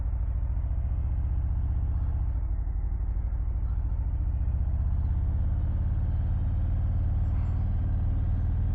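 A 2024 Harley-Davidson Breakout 117 motorcycle rides along with a deep, steady low rumble from its big V-twin engine, a continuous throbbing drone at even volume throughout.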